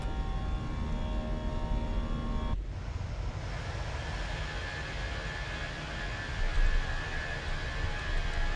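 An airliner in a flight simulator game, taking off from Copenhagen and climbing out toward Heathrow: a steady, loud engine roar and broadband rush that holds through the climb, with a sharp shift in tone partway through.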